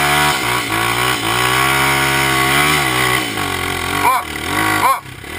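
A motorcycle engine revs hard and close, held at a loud, high-pitched buzzing whine that rises and falls, with two sharp throttle blips near the end. Faint voices can be heard underneath.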